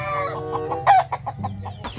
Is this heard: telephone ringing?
no